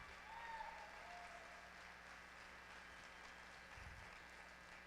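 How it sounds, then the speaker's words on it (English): Applause from a crowd at a youth fair lamb show, steady and fairly distant, holding at an even level throughout with a faint tonal hum in the background. "let's give each one of these young exhibitors a round of applause out here."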